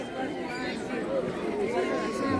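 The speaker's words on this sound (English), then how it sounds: "Now the crowd is gathering." Many overlapping voices at a Bukusu circumcision ceremony blend into a busy crowd murmur as people gather, with a few nearer voices rising above the steady chatter.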